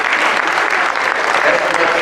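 Guests at a company Christmas party keep up a dense, even round of applause, many hands clapping close and loud without a break.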